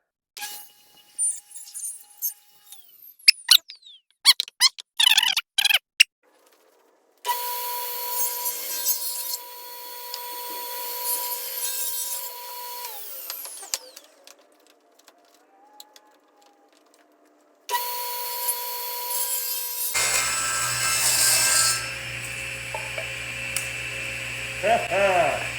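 A SawStop table saw cutting through hard maple in two long, loud runs, each with a steady high whine and rough grinding, separated by quiet pauses and earlier sharp clatters.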